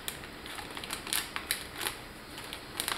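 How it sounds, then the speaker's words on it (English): Paper packet of onion soup mix being torn open in a kitchen, a faint string of small crinkly rips and crackles with no voices. "You're going to tear open the package"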